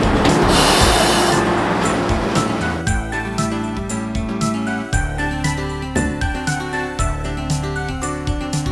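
Chiptune-era train running in the PC Engine video game 3x3 Eyes, a Tokyo commuter train arriving at Yoyogi station: a loud rushing, rattling roar for about three seconds, then synthesized game music with bright chimes carrying on over fainter rumble.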